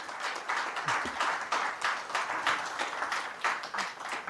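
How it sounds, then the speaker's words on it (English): An audience at an infrastructure summit in New Delhi applauds a government minister with steady, dense clapping that carries on evenly throughout. "A big applause for the minister,"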